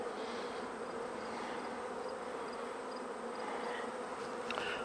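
A dense crowd of honey bees covering a hive frame hums in a continuous close buzz, even and unbroken for a few seconds, with no voices.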